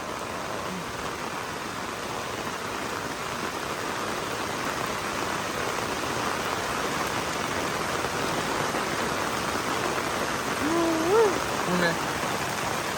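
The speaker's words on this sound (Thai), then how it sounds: "ฝนตกหนักแฮง" Steady, dense storm rain hiss fills the whole stretch, loud and continuous, with a brief faint tonal sound near the end.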